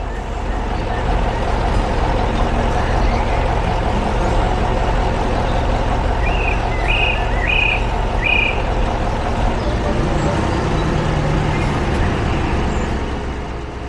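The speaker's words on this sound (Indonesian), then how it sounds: "Sekarang giliran ekskavator kuning yang datang." A yellow excavator working on farm irrigation trenches gives a loud, continuous diesel engine roar, with a short burst of high beeps partway through.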